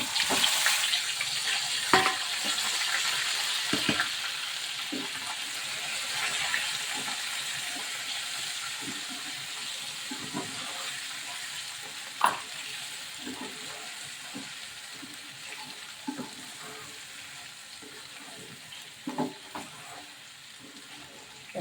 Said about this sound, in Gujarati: હવે આપણે બધો બટેટાની જેમાં મસાલો ભરીને રાખ્યા છે એ પણ આપણે એમાં એડ કરી દઈશું